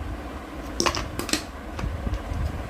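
Scissors snipping wool yarn for a flower craft, two or three crisp close cuts in quick succession against a low room hum, with no speech.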